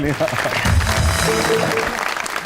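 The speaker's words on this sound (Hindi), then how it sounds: "अदनान भाई की टाइमिंग के लिए तालियां" A studio audience at a talk show claps in a brief, even burst of applause, mixed with voices speaking over it.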